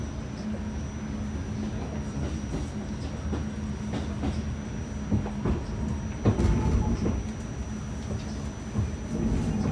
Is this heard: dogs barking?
no